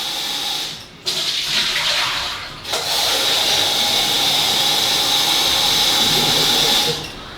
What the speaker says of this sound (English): So what I'm going to do is fill it with water and see how slow the filtration is.